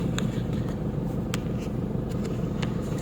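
Steady low road rumble of traffic heard from inside a stop-and-go car in the morning, with faint clicks and small knocks over the continuous engine drone and no speech.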